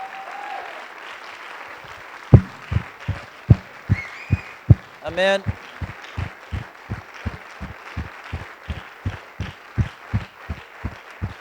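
A church congregation at a special worship service claps together in a slow, steady rhythm, each clap sharp and evenly spaced, building from scattered claps into a unified beat with a brief voice and cheers over it.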